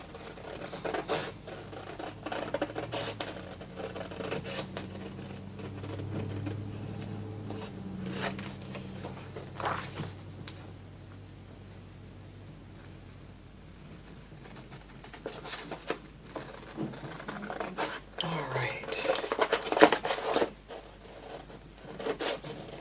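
Scissors snipping through a Dollar Tree paper gift bag picture, a soft run of close, uneven cuts and paper rustles, quieter in the middle and busier again toward the end.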